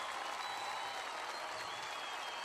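A concert audience at a show applauds in a steady, continuous wash of clapping heard from within the crowd.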